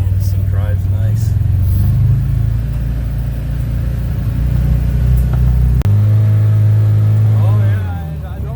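A 2023 Can-Am Defender HD10 XMR side-by-side drives along a trail, its engine holding a steady loud rumble with brief shifts in pitch, while people talk over the noise from inside the cab.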